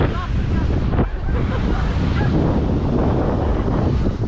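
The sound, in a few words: wind blowing on a sandy beach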